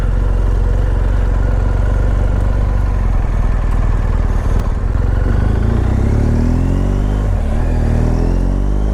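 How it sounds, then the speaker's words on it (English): A BMW boxer-engine motorcycle, an R1200GSA, revs while being ridden, a loud close continuous engine roar that climbs in pitch and eases, with rushing wind noise throughout. "Lovely sound of that boxer."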